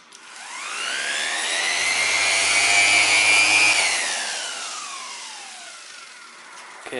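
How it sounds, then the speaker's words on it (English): A Mirka sanding machine with speed control works on a Toyota Corolla front bumper from the 1991–2002 generation, its whine rising in pitch as it speeds up, holding steady, then winding down over several seconds. "and here is my sanding machine"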